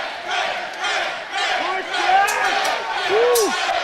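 A crowd at a fight event roars in a steady, dense wash of voices throughout, with a few whistle-like calls rising above it and a commentator talking over the noise.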